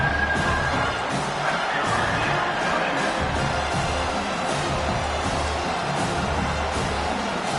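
A home crowd cheers and roars at an American football game, a loud, dense, steady wall of crowd noise that fills the whole stretch without letting up.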